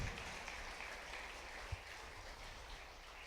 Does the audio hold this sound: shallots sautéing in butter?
no